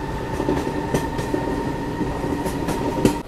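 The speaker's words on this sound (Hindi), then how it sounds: "अपनी ट्रेन निर्धारित समय से निकल चुकी है बाड़मेर रेलवे स्टेशन से" A Barmer–Mathura Express passenger train rolls along, heard from inside as a steady loud rumble with rhythmic wheel clacks and brief metallic squeals, no voices.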